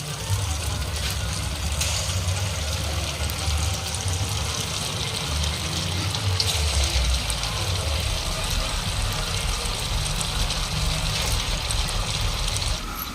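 Cabbage snacks frying in hot oil on a home stove, giving a steady, fairly loud sizzle and bubbling that runs continuously throughout, with a low hum underneath.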